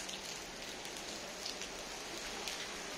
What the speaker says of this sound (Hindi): बारिश अभी भी हो रही है कंटिन्यूसली